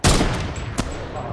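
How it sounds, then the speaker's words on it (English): Gunfire in Fortnite: a sharp loud shot opens, followed by a fainter distant crack and scattered echoes, with no talking over it. "someone's shooting there."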